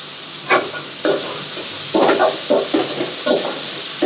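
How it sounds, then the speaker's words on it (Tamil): Vegetables with tomato, including brinjal, drumstick and radish, sautéing in a pan for prawn curry, giving a steady close sizzle broken by several scraping stirs of a utensil, with no talking. "இது நல்லா வதங்கிட்டு தக்காளி இன்னும் வதங்கும்."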